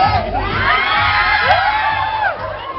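Women scream and cheer wildly in a loud crowd at a strip show, with high shrieks and whoops rising and falling continuously.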